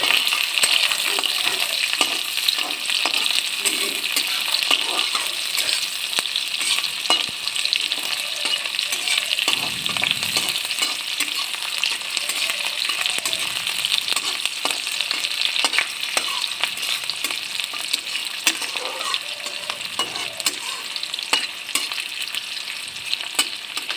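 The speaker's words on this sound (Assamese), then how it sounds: "গোটা পিঁয়াজ, এতিয়া ভালদৰে লৰাই লৈছোঁ" Whole cumin and whole onions fry in a pan while being stirred, making a loud, steady crackling sizzle with frequent scraping strokes of the spoon, close up and with no voices.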